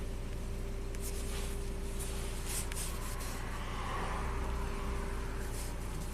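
Chevy Captiva with a GDI engine, freshly swapped, idling steadily with a low continuous engine drone and hum, no revving surge evident, close and constant throughout.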